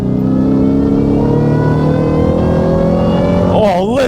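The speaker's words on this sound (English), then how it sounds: "that grunt from that supercharged and the whine is crazy" A Hennessey Velociraptor 1000 supercharged pickup truck accelerating hard, a loud close engine roar with a rising supercharger whine that climbs steadily in pitch, then a brief shift near the end.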